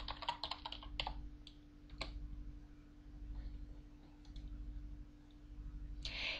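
Computer keyboard being typed on to enter a command in a text-based online game, with a quick cluster of crisp key clicks at first, then a few scattered taps over a low steady hum.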